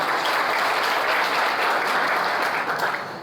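An audience applauds the organisers of a neighbourhood filter plant at a local council gathering, with dense, even clapping held at a steady level from start to finish.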